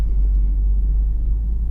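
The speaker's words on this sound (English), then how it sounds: "you should be able to hear the intake open up here" A Lexus IS F's 2UR-GSE V8 rumbles at full throttle, giving a loud, steady, deep engine roar heard from inside the car, with no talk over it.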